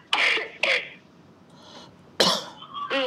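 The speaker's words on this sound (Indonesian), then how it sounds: "saya sampai batuk-batuk" A few close, harsh coughs from a person with a blocked nose: two in quick succession, a pause with a faint murmur, then another cough followed by throat noise.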